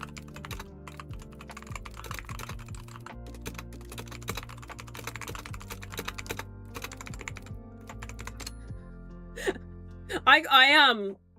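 Rapid clicking keystrokes on a computer keyboard rattle in a steady, uneven stream for most of the span, close and clear, and a high voice breaks in near the end.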